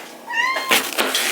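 A cat meows in a kitchen, one short rising-and-falling meow, close and clear, followed by brief clattering noises nearby.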